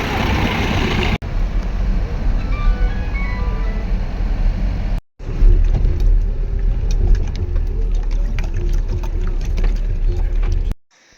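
A vehicle driving on the road to Sedua during a Makalu Base Camp trek in Nepal, heard as a loud, steady engine rumble and road noise with two abrupt cuts.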